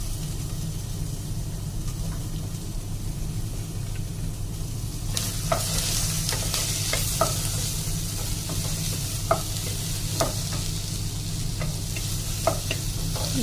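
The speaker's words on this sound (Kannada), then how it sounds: "ವೆಜಿಟೇಬಲ್ ಎಲ್ಲ ಹಾಕಿದರೆ ಫ್ರೈ ಮಾಡಬೇಕು" Chopped vegetables stir-fry in a pan over low gas flame, a steady soft sizzle with a low hum beneath and periodic spatula scrapes and taps clicking through the second half.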